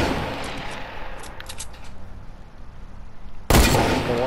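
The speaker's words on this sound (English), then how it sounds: "I'm gonna hit him with this hunting rifle" A hunting rifle fired in a video game: a single loud, sharp report near the end, preceded by quieter ambient game noise with scattered high clicks.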